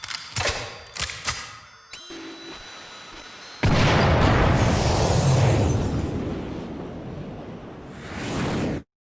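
A high-powered rifle shot in the Killer7 video game: a few sharp cracks early on, then a heavy booming blast that rolls out into a long, fading roar before cutting to silence.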